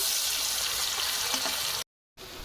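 Whole spices (cardamom, cloves, cinnamon) and chopped onion fry in a pan for a homestyle chicken curry, a loud continuous sizzle that cuts out briefly near the end before resuming.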